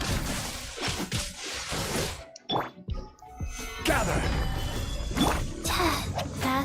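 A boss's shield shatters during a Genshin Impact fight, a loud crash and shattering burst amid dense game effects, whooshes and hits, with a quieter gap before the noise swells again.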